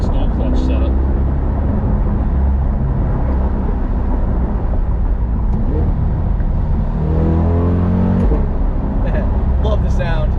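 A Chevrolet C8 Corvette with a dual-clutch transmission drives along, its engine a loud, steady rumble heard from inside the car, rising in pitch near the end as it accelerates, with people talking over it throughout.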